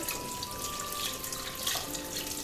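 Steady running water pours continuously into a pot of onion roots, ginger and salt, a full hiss with a faint tonal ring as the vessel fills.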